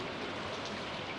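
Steady rain falls in Stardew Valley, a dense, even hiss of drops with no other sounds present.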